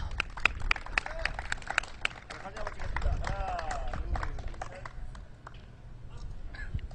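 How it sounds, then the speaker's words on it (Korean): Applause at a futsal tournament award ceremony, with quick, uneven claps from the audience crackling through the opening seconds before a voice talks over a busier, rumbling crowd. "큰 박수 부탁드리겠습니다"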